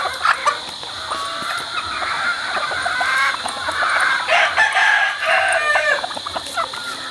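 Gamecock pullets of Sweater, Golden Boy, Golden Monkey and Yellow-Legged Hatch lines crow and cluck on a farm, several overlapping calls close by and loud throughout.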